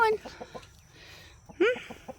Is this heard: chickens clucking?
yes